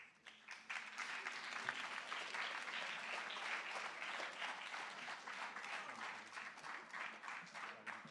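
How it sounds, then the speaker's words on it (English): Steady applause from a junior high academic awards audience for the named winners, a dense even patter of many hands clapping at a moderate distance for several seconds with no talking over it. "you can give them a round of applause"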